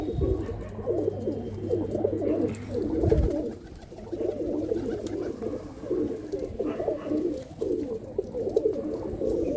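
Chap pigeons coo repeatedly, their throaty rolling calls overlapping close by in a loft, with soft wing and shuffling sounds beneath.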